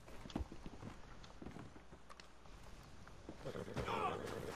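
A horse's hooves clip-clop behind a player in the video game Red Dead Redemption 2, soft, uneven thuds mixed with game ambience while people talk over it.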